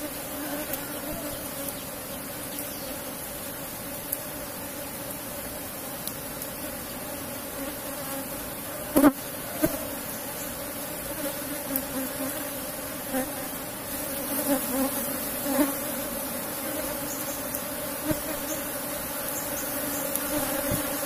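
Apis cerana honeybees hum continuously around an opened hive during a honey harvest, a steady moderate drone with occasional knocks and brief thumps of handling.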